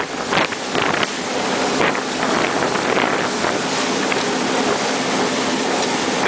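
Evinrude 115 E-TEC outboard from 2015 on a 2004 Victor 4.85 RIB, running at about 4000 rpm over slight chop, a loud continuous engine roar mixed with heavy wind buffeting on the microphone and splashing water.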